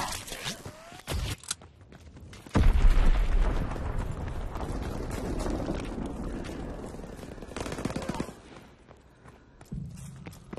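A grenade explosion in a video game bursts with a sudden heavy boom and then rumbles into a long, fading roar of debris, preceded by a few faint scattered clicks and small noises.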